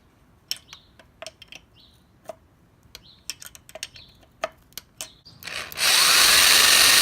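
A bleed port on an ECOTEC engine's coolant housing is worked during a Miata engine swap, with a string of sharp taps and clicks followed by a loud, steady whine from a power drill starting near the end.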